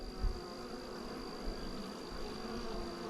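Bees buzzing around a hive being worked: a continuous, dense drone of many wings, fairly close and steady, with small handling bumps and no talk.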